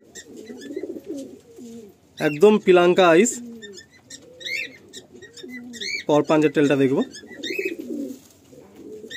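Madrasi pigeons from a breeding pair offered for sale in Kolkata give low, soft, rolling coos in short repeated bursts, under someone talking.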